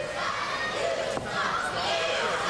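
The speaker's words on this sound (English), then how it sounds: "Yeah, I can't believe the disrespect the crowd are giving towards James Champagne" A wrestling crowd jeering and shouting at a wrestler during a live event, a dense roar of voices with a sharp slam-like hit midway, loud and continuous.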